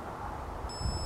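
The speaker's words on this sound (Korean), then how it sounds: "또 한번 누르고 있다가 삐 소리 나면" Cordless electric pruning shears give a short, steady electronic beep late in the moment while the trigger is held down to widen the blade opening, close by and fairly clear over a low background hum.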